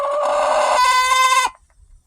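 Chickens huddled for warmth give a loud, close, sustained vocal call with a shifting pitch, then a brief soft cluck trailing off into near quiet.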